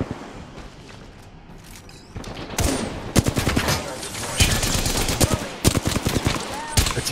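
Gunfire in Apex Legends rattles out in loud bursts and scattered single shots against game background noise, getting denser and heavier in the second half, with a player's voice briefly audible.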